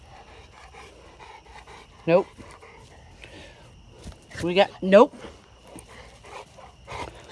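A pet dog pants and lets out short whimpers at home, with several brief bursts standing out over quieter breathing while a person talks to it nearby.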